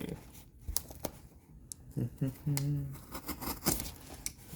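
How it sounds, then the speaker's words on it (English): A heavily taped cardboard box is cut open with short scissor snips and tape tearing, crinkling close by in brief bursts, with a voice talking in between. "let's see how we can get this box opened. Looks like they taped it quite a bit."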